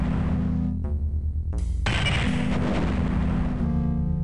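Mine explosions in Star Wars Dark Forces, loud booming blasts with a heavy low rumble, a second bigger crack and roar near the two-second mark that decays into a long rumbling tail, no speech.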